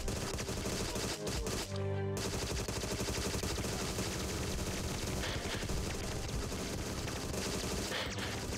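Dense, continuous gunfire from the spy shooter game Agent 64: Spies Never Die, with rapid overlapping shots and automatic bursts over game music, loud and steady throughout, with a brief distinct burst of shots near the start.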